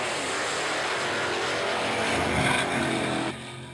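Mustang and Camaro race cars at a 2014 drag racing nationals, a loud, steady roar of racing engines that holds strong and then drops off sharply near the end.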